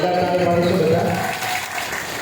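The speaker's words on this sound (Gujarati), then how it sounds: "જી સર, એકવાર સર માટે જોરદાર તાળી." An audience at a stage event claps with dense, sustained applause, and voices are mixed in underneath as it gradually eases off.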